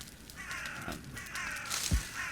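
Crows cawing in the Valheim video game, a few harsh calls rising over a steady ambient background, one sharper caw standing out near the end.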